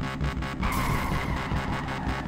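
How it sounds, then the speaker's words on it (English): A car in the drifting video game Peak Angle: Drift Online revs hard at full throttle with the handbrake pulled, a loud, sustained engine roar and tire squeal, steady throughout. "I'm gonna go full throttle and handbrake"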